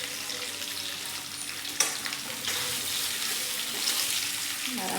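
Beetroot laddus being stirred into hot oil with fried chilies in a pan, giving a steady close sizzle and frying hiss with a couple of sharp spoon scrapes against the pan.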